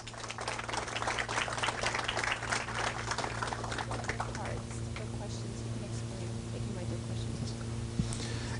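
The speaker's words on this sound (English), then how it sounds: "let's have a round of applause for all our speakers." Faint applause from a conference audience after a waterfront dredging panel; a dense patter of clapping swells early, then fades into quiet room noise.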